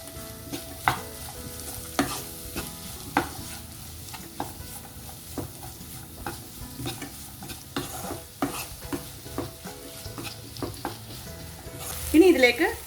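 A spoon stirs beef stew ingredients with salt in a pan, producing repeated scraping knocks in an irregular rhythm over a faint sizzle, with a brief louder clatter near the end.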